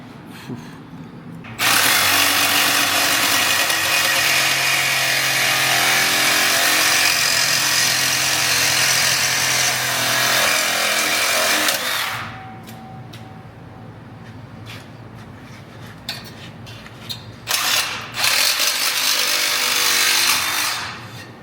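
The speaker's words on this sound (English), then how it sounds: "I think I'm cutting on a weld, that's why." Power saw cutting through a steel weld, a loud sustained grinding whine for about ten seconds, a quieter stretch of lower machine noise with clicks, then another loud burst of cutting.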